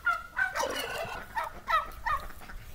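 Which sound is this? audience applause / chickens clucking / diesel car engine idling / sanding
chickens clucking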